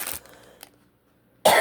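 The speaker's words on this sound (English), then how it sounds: "Sorry about the coughing." A person with a cold gives a couple of short, rough coughs up close, followed by a pause of near silence and then another harsh burst.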